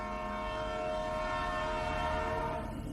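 A train pulls into New Barrackpore railway station with a loud, sustained horn blast ringing over the rumble of the approaching carriages, close and continuous.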